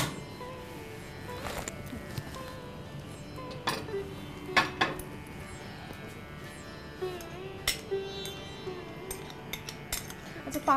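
Grated coconut cooks in a pan for a sweet pithe dish. A spoon scrapes and clinks against the metal at irregular intervals, a few knocks sound louder, and a faint hum stays underneath.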